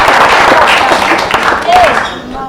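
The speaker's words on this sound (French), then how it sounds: "Vos applaudissements s'il vous plaît pour" A live comedy show audience breaks into dense, loud applause and cheering that fills the whole moment before tapering slightly at the end.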